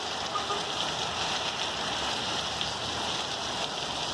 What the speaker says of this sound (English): I guess you've probably seen enough of some hard rain